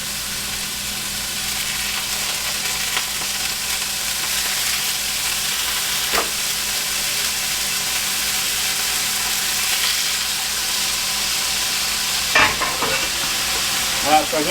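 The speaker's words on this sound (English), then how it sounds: "you can hear that sizzle," Pollock fish sizzling in olive oil in a pan, a loud, steady crackling hiss that holds constant throughout, with a couple of brief clatters near the end.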